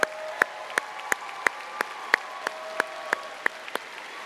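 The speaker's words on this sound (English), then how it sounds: "Please give them all a round of applause." Audience applause fills a college commencement ceremony for the Philip Merrill College of Journalism. Distinct claps ring out at a regular pace over a faint background hum, with no talking.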